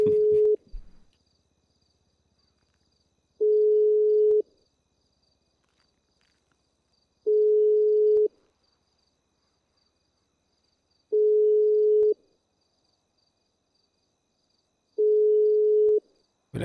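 An in-game phone call in GTA V rings unanswered, with five evenly spaced ringback beeps, each about a second long and separated by roughly three seconds of silence. The tone is clear and steady, with no voices.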